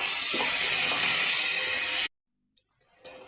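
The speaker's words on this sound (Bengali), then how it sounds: "এবার আমি এক বাটি মতন জল দিয়ে দিচ্ছি।" Water poured into a hot pan of potato and pea curry bursts into a loud, dense sizzling hiss for about two seconds, then cuts to near silence before a softer hiss returns.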